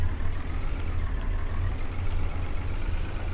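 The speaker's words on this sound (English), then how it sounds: "the Bura 6105. What a great tractor." A Bura 6105 tractor engine from Farming Simulator 19 idles steadily, a low droning rumble at a constant pitch and moderate level, with no other sounds over it.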